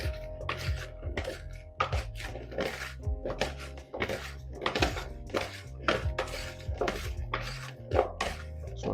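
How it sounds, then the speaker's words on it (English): Japanese sweet potato chunks being tossed with Italian seasoning in a bowl: a steady run of close clinks, scrapes and clatters, with soft music playing underneath. "Now I'm just gonna mix all this up together. Get it nice and coated."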